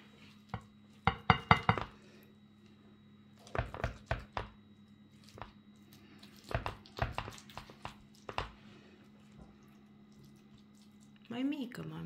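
Baked pasta with three kinds of cheese being cut in two in a home kitchen, heard as clusters of sharp knife taps and clatters against a dish, with pauses between and soft talk at the end.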